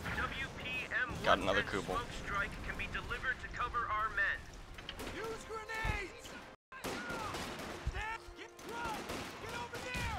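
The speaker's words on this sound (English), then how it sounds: "Your World War One machine gun's being shot at." In Company of Heroes 2, gunfire crackles at a World War One machine gun position amid a busy battle. Sharp shots and bursts sit under ongoing voice chat.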